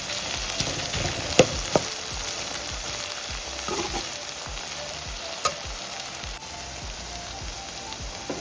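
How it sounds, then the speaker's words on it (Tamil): Onions and garlic sizzle steadily in a hot pan, a dense, even frying hiss with scattered pops and crackles and a few spoon stirs, close and continuous with no talking. "வெங்காயம் வதங்கிடுச்சு."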